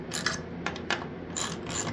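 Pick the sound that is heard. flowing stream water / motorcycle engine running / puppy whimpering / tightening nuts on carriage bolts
tightening nuts on carriage bolts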